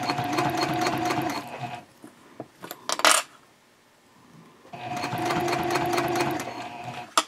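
A sewing machine runs in two steady stitching passes on a messenger bag gusset, loud and close, with soft handling clicks and a light metallic clink between the runs and no voices.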